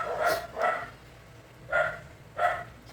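Dogs bark in short sharp bursts, four barks in two pairs, moderately close and fairly faint over a quiet background.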